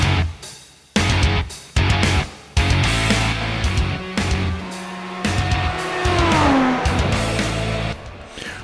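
A Formula 1 hybrid car engine in an iRacing simulation at Silverstone idles and revs in short bursts at low speed, rough and rattly, with gaps of near silence between blips and a sliding tone later.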